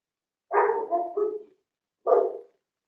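A dog barks nearby: a short burst of three or four rough barks, a pause, then one more single bark, loud and clear against a quiet background.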